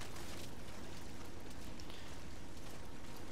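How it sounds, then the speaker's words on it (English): Steady, dense rain hisses without a break in the video game Metal Gear Solid V: The Phantom Pain, a continuous wash of falling water filling the scene at moderate loudness. "Rain will cover my footsteps."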